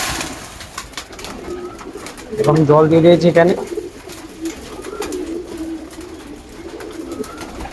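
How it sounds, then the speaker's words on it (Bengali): Breeder pigeons feeding give a single burst of close, throaty cooing in the middle, with someone talking over soft background shuffling before and after. "বিডার পায়রাদের আমি খেতে দিয়ে দিলাম"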